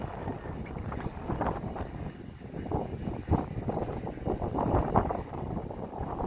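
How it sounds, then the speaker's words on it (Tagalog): Strong wind buffets the microphone at Manila Bay, a loud, gusty rumble that swells and fades in uneven bursts, heard on its own. "medyo malakas lang yung hangin"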